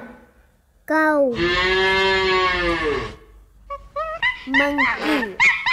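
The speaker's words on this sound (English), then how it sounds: "Cow." A cow moos loudly in one long, drawn-out low call, then a few shorter, wavering calls follow close by.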